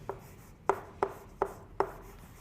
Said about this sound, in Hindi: अब मैं लिखता हूं